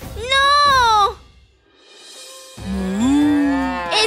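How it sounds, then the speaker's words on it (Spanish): A cow moos loudly twice, two long drawn-out calls separated by a brief quiet gap, close by. "¡Ese es el sonido de una vaca!"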